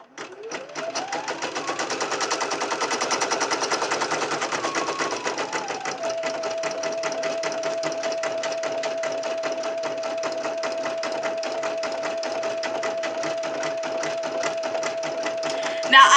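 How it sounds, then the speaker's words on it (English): An embroidery machine stitches white thread with a fast, steady mechanical chatter of needle strikes, a rising motor whine settling into a constant hum, running continuously up close. "So I put my white in, and then it's going to stitch"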